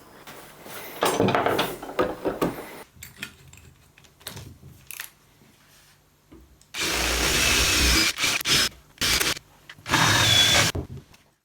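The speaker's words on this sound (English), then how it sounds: "So I've got to drill that out" A power drill bores out wood on a Victorian gate leg table in several short, loud bursts near the end. Quieter handling and scraping noises come first, with stretches of near silence between.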